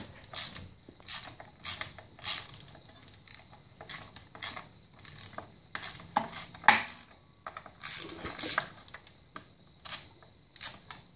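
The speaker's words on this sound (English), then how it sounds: "take your wrench, put it in a regular ratchet wrench, and undo it." A ratchet wrench undoes axle bolts on a 10 or 12 bolt Chevy axle, making repeated short bursts of sharp, close clicking and metallic ratcheting with brief pauses between strokes.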